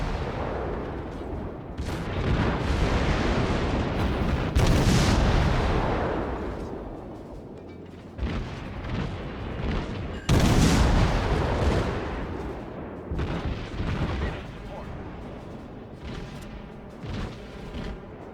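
Naval guns on a warship in an online battleship game fire in heavy booming salvos, loud repeated blasts with rumbling tails spaced a few seconds apart.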